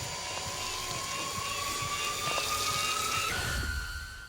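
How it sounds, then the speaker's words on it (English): A high-pitched dental drill whine in the video game Stories Untold, a steady tone slowly rising in pitch over a low mechanical hum, then jumping higher near the end, continuous and fairly loud. "Are you talking about the drill?"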